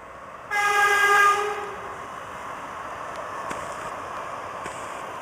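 A light rail train on a causeway at Robert E. Lee Park in Baltimore sounds a loud horn blast of about a second, then a steady rumble of the train passing at a moderate distance, with faint clanks.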